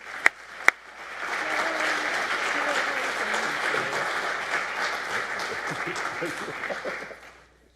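A prize ceremony audience breaks into sustained applause, a couple of sharp early claps swelling into a full roomwide ovation that holds steady before fading out.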